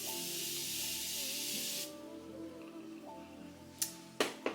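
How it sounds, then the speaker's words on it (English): A long hissing blast of makeup setting spray onto a face sounds close up for about two seconds, followed by quiet background hum and a few short sharp spritzes at the end. "spray my face with my Morphe Continuous Setting Spray"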